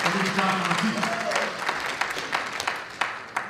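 Audience at a political party grassroots rally clapping in a dense burst that thins toward the end, with a speaking voice carrying over the applause early on.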